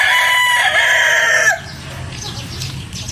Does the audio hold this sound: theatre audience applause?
no